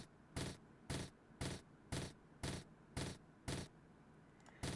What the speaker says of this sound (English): And then there's the fireworks.